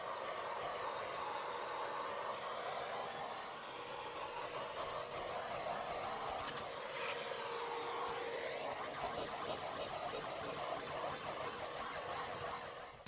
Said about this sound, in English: we're going to hoover it first